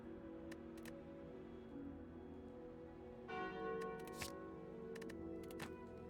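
A bell tolls faintly in a video game as a card effect called Curse of the Bell triggers, a few soft metallic strikes over quiet ambient sound.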